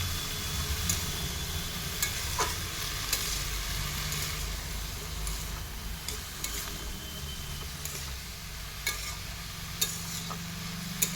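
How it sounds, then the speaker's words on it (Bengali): Red amaranth greens (lal shak) stir-fried in a pan: a steady sizzling hiss with a low rumble underneath, broken by sharp scraping taps of a spatula every second or so, all at an even, moderate level with no talking. "এরপরে শাকগুলো দিয়ে আবারও 2 মিনিট মতো হালকা নাড়াচাড়া করে কষিয়ে নিতে হবে"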